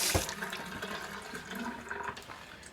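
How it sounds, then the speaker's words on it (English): A leaking sink faucet during a home inspection gives a steady watery hiss and trickle, fairly faint and close, with a brief louder splash at the start. "You can see we got a little bit of leaking at the faucet right here."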